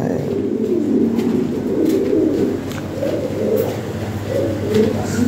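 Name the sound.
Lahori Sirazi pigeons cooing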